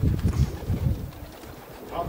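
Racing pigeons gathered at their loft give low, throaty coos in a quick pulsing series, close by, over a rough bed of wind noise on the microphone.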